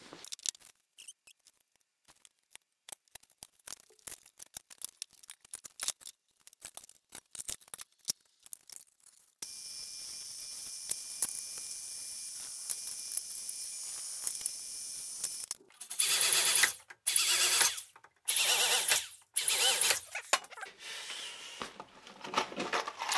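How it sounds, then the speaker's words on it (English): A drill whines in bursts while drilling holes in a shelf for a truck slide-out kitchen: a long steady high-pitched run, then several shorter pulses, interspersed with clicks and handling noises, no speech. "We'll take our measurements and we'll drill them out."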